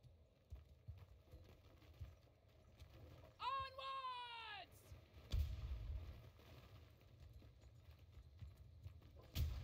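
Horses trot with soft rhythmic hoof clops through the background of a Bannerlord battle from the Old Realms Warhammer mod, under low game ambience, with a whinny-like rising call and a couple of thuds.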